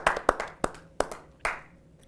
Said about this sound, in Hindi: जोरदार तालियों से स्वागत करें प्रीति अग्रवाल।